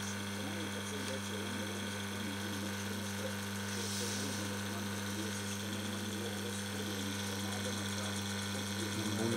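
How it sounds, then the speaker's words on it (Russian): A water softener's pump runs steadily with a constant mechanical hum and fine ratcheting clatter, close and even from start to finish, with no speech over it. "Насос качает."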